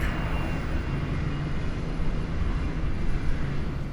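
Engine drone of a Kodiak 100 single-engine bush plane in Microsoft Flight Simulator 2020, a steady broadband roar with a faint hum throughout, no speech.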